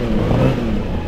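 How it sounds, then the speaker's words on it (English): A Lamborghini Miura's engine revving steadily while being driven through the Alps, a loud, continuous low mechanical roar close by with no talk. "I'm here driving my friend Roger Beckerman's Lamborghini Miura through the Alps"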